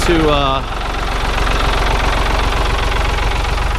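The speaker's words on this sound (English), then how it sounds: "as we walk away from the tractor and get rid of that noise" A tractor fitted with a Kodiak 6-foot medium-duty bush hog idles nearby, its steady, rhythmic chugging and knocking continuing throughout, with a brief voice at the start.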